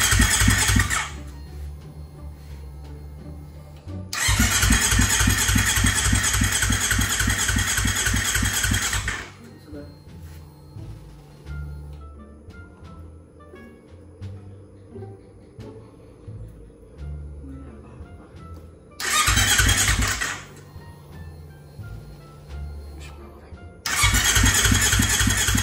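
A Kawasaki Ninja 250 Fi motorcycle engine that is hard to start turns over loudly in bursts, with several cranking and revving attempts separated by quieter stretches of low idle and workshop ambience.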